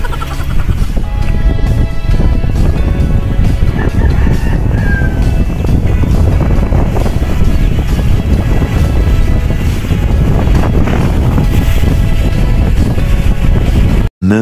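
Strong mountain wind on the Marilaque road roars steadily and loudly, a constant buffeting rush that lasts throughout and cuts out abruptly at the end.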